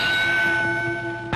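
A boxing ring bell clangs during the Rocky Marciano versus Joe Louis fight, marking the start of round 8. Its tones ring out loud and sustained against crowd noise for over a second.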